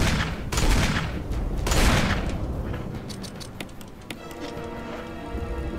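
Loud bursts of rapid fire from a four-barrelled rocket launcher in the video game Resident Evil HD, with heavy booms in the first half, followed by scattered sharp metallic clanks and ringing tones as it settles.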